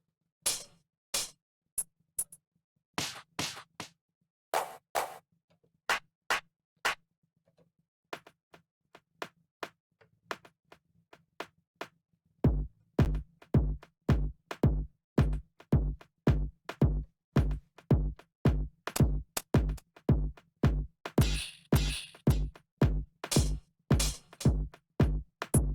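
A beat from the Arcade software instrument plays alone: sparse clicky hits first, then a steady driving pattern of punchy low kicks and snappy percussion, with a brief quiet gap midway.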